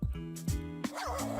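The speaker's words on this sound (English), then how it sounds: "I just asked the dog." A dog in the video game NNNNNIGHT gives three short, clear barks in quick succession, close and fairly loud, with a whining, yipping edge after the last one.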